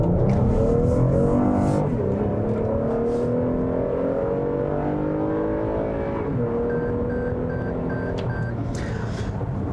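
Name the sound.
Toyota Highlander 3.5 liter V6 accelerating in sport mode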